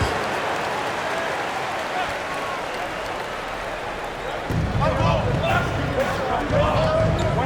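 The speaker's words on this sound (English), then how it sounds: "Let's give them a round of applause for Florida Gators dancers." A large indoor basketball arena crowd breaks into applause and cheering halfway through, after a stretch of arena murmur with faint shoe squeaks.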